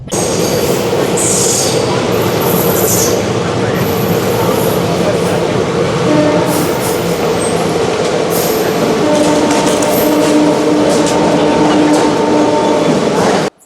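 An express train in India rolls along steadily toward Bardhaman Junction with a loud, continuous rumble and rattle of wheels on track, occasional faint squeals, sustained throughout.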